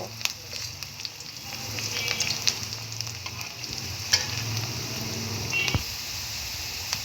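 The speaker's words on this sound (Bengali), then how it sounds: "দিয়ে এটাকে ভালো করে একটু ব্রাউন করে ভেজে নিব।" Onion, two dried red chillies and a bay leaf frying in a pan until brown, a steady close sizzle with occasional scraping stirs and a faint beep partway through.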